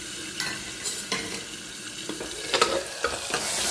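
Tomatoes and asafoetida hit a hot oiled pan, giving a loud continuous sizzle with intermittent spoon scrapes and stirring clatter, and no one speaking.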